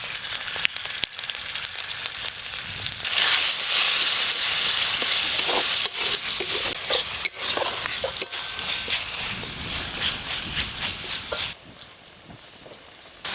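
Spice paste sizzles steadily in a hot pan while prawn malaikari cooks in a rural village kitchen, a loud continuous frying hiss with soft clinks and stirring scrapes, fading quieter near the end.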